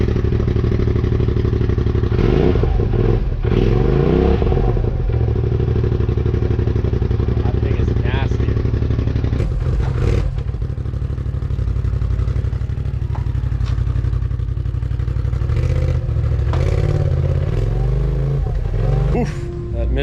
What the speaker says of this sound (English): Mr. RPM exhaust sounds nice